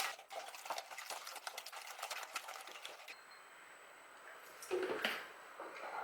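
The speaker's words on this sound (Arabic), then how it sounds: "وغادي نطربوا هاد المكونات كامله مع بعضياتها حتى كيتجانس لنا الخليط كامل" Cake batter ingredients being beaten together in a bowl, a steady rapid whisking and scraping that runs for about three seconds, then thins to fainter scattered clinks and a short louder clatter near the end.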